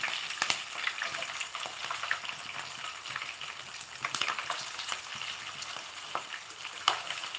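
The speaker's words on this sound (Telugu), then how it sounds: "పచ్చిమిర్చి కొంచెం బాగా ఫ్రై చేసుకోవాలి" Green chillies sizzle and crackle steadily in hot oil in a pan while lemon pulihora is being made, with occasional louder pops and stirring scrapes throughout, close and without talk.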